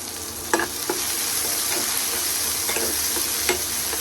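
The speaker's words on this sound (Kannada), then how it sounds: "ಇದನ್ನ ನಾನು ಇವಾಗ ಲೋ ಅಲ್ಲಿ ಇಟ್ಕೊಂಡೆ ಫ್ರೈ ಮಾಡ್ಕೊತಾ ಇದ್ದೀನಿ" Green chilies fry in a pan over low heat with a steady, even sizzle, punctuated by a handful of light spatula scrapes and taps, close and uninterrupted by voices.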